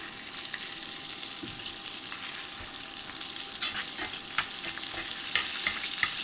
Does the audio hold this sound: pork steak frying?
yes